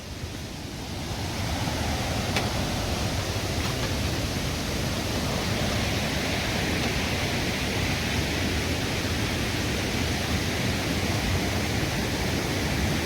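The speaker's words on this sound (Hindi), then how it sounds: "नदी की आवाज़ बढ़ती जा रही है" A rushing mountain stream in a Himalayan valley makes a loud, continuous broadband roar of water that swells in the first second and then holds steady, close by with no voices.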